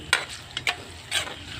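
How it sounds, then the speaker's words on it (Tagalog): A spoon stirs spicy frog adobo with chili in a pan, making several distinct scraping strokes over a continuous sizzle, close and clear. "Haluin lang natin ng konti."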